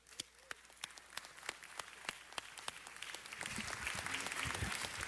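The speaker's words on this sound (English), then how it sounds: "join me in giving a very thankful and warm round of applause" Applause at a city council meeting for a retiring police captain, starting as scattered sharp claps and swelling into dense, sustained clapping from the audience.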